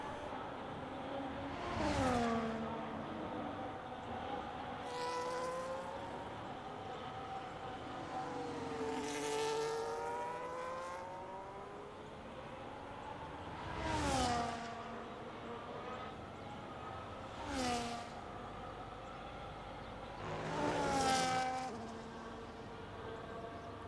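Racing cars in a video game lap the Austria circuit, their engines whining and rising as each one passes by. The pass-bys repeat over a steady engine drone, some near and loud and others fainter, with no one talking.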